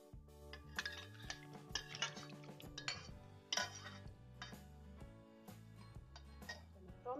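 Melted butter is stirred into apple pie batter, a utensil clinking and scraping against the bowl in quick irregular bursts, close and clear, over steady tonal background music.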